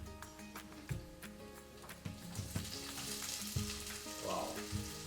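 Onion frying in a pan for a Filipino-style chicken à la king, a steady broad sizzle with occasional spoon knocks and stirring scrapes, close and continuous, with no talk.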